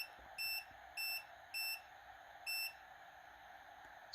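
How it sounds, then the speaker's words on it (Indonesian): Four short electronic beeps from a mosque iqamah countdown timer in a steady rhythm over a faint steady hum, fairly quiet and clear. "ini akan bunyi bip setelah set hitung mundur ikomahnya habis"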